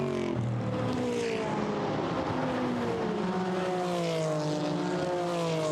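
GT4 race cars at Monza's Parabolica in a 2019 European Series race accelerate past in a pack, several engines rising and overlapping in pitch, loud and continuous.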